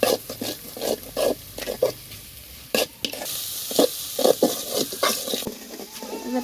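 Tomato goes into a sizzling pan of village-style bathua greens with kumro bori, heard as repeated short bursts of frying crackle and spoon scrapes in an uneven rhythm, close and moderately loud.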